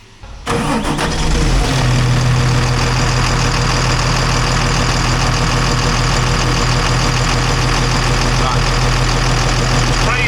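A scrap car engine cranks and then catches, settling into a loud, steady running rumble that lasts several seconds, close by with people talking over it.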